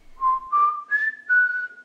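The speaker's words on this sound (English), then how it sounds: "he spent all afternoon whistling at the sky" Someone whistles a short four-note tune, clear and close, each note held briefly and stepping gently upward then settling.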